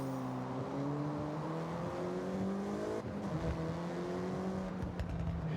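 A race car in the video game Forza Horizon 6 drives on a wet track through turns, its engine droning and shifting pitch while the tires squeal. The sound is close and continuous, without talk.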